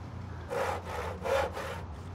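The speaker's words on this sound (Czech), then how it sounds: "Pila zase nějak blbne, stávkuje." A sawmill in the Transport Fever video game saws wood in three rhythmic back-and-forth strokes, moderately close, over a low steady hum.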